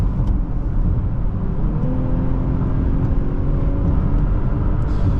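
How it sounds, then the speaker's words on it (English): Inside a 2021 BMW X5 xDrive40i, its inline-six engine accelerates with a steady, rising hum and a low drone, plus faint road noise under the engine throughout, with no voices. "Inline 6 sounds great"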